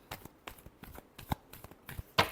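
Playing cards are shuffled in quick, soft riffling bursts, close and quiet, ending with a sharper snap.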